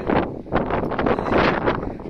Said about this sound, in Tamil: காற்று நல்லா அடிக்கும்.